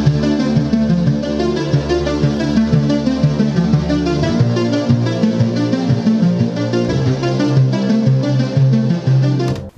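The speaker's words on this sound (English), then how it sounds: "Now what we're gonna do is pull in a bass sound." A loud, thick synthesized bass line in an electronic track rumbles and shifts pitch beneath layered synth melody, driving steadily for about ten seconds with no talking.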